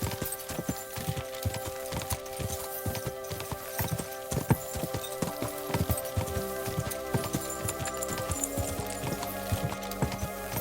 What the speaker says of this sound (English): The horse! It really is here!